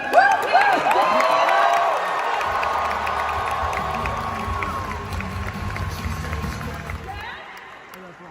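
A large fan crowd at the D23 Disney fan event cheers, whoops and applauds loudly and steadily for several seconds, with a host's amplified voice briefly over the start before the noise fades out.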